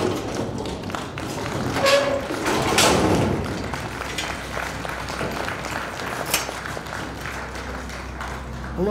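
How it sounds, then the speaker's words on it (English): Audience members at a beef cattle stockmanship conference applaud after a trailer-loading demonstration; scattered, fairly close clapping swells early on, then thins into sporadic claps, taps and thumps. "I don't know if y'all applaud because that went well or because it's over."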